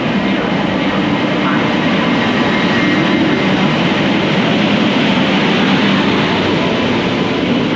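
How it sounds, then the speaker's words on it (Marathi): A Tejas Express train on the Konkan Railway pulls into a station, a loud, dense, continuous rumble and rolling roar close by that holds steady throughout with no pauses. "वेळेच्या पंधरा मिनटं ट्रेन लवकर आलेली आहे आपली तेजस एक्सप्रेस"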